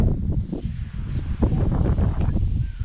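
Strong wind buffets the microphone on a hot beach in Wales, with continuous low rumbling gusts and blustery surges throughout, loud and close with no talking.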